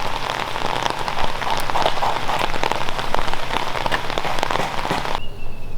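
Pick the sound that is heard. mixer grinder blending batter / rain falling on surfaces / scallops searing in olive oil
rain falling on surfaces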